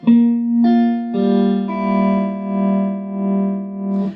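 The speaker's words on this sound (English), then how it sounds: "I've got a little bit of tremolo on just to get that kind of uni vibe, that warbly kind of sound" Electric guitar playing a slow riff of held notes with a tremolo effect giving a Uni-Vibe-like warble, a wavering, pulsing volume throughout, and a touch of distortion and reverb.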